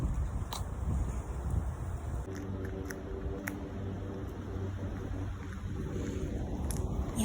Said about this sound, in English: That wind is hitting me hard.